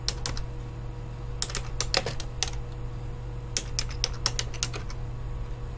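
Quick bursts of keystrokes clack on a computer keyboard, close and crisp, arriving in short irregular clusters with brief pauses between them over a low steady hum.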